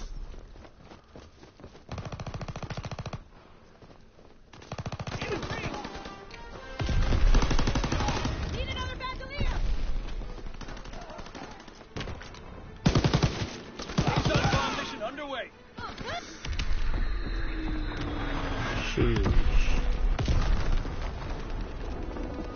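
MG42 machine guns fire in the Call of Duty WW2 multiplayer map, with rapid bursts of automatic fire and single shots swelling and fading. Footsteps, occasional booms and voices mix in.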